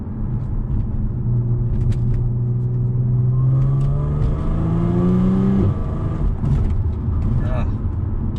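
An Audi 3.0T V6 from an S4, S5 or SQ5 revs up close by, its rising engine note climbing smoothly and then dropping off abruptly, loud and rumbling, with people talking briefly near the end.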